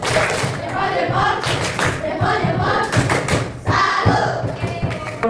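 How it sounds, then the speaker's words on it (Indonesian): A school class gives a rhythmic group 'salute clap' for a presenting team, loud patterned clapping with thumps and shouted calls, repeated in bursts close to the listener. "Oke, tepuk salut buat kelompok 6. Tepuk salut."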